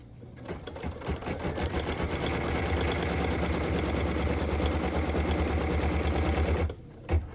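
An embroidery machine stitches a tack-down line for a Christmas tree ornament piece, a fast steady mechanical whirring with rapid needle ticking that runs continuously before stopping abruptly, followed by a single click.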